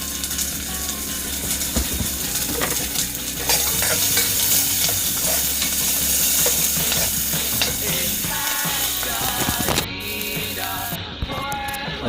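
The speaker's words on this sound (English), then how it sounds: "I've burned the onions." Chopped onions sizzle and fry steadily in a pan for a vegan pumpkin soup, with a constant hiss broken by frequent scraping and stirring clatter.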